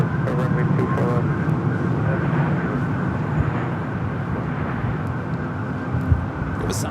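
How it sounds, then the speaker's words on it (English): A Southwest airliner rolling down runway 24 left at LAX, a loud steady roar of engines with continuous rumble throughout, while people talk over it. "It was Southwest flight rolling down to 24 left."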